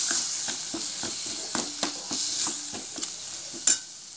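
Onion and coconut masala stirred in a frying pan for an onion curry, with rhythmic spoon scrapes every half second or so over a soft, continuous sizzle, close and moderately loud, one sharper knock near the end.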